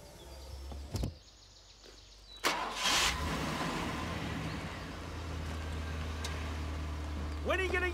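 A truck door shuts, then the engine cranks and catches, settling into a steady low idle close by, with a brief rattle near the end and no talk.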